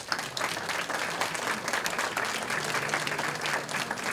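Sustained applause from an audience at an outdoor summer concert, honoring servicemen and women; dense steady clapping fills the clip without pause, with a faint murmur of voices underneath.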